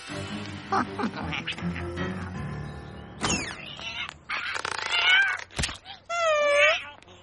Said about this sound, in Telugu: ఏడవకు మిస్టర్ క్యాట్